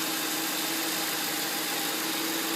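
A 2006 Ford Crown Victoria Police Interceptor engine idles with a steady, even hum and a constant cooling-fan whoosh, close and unchanging throughout with no voices.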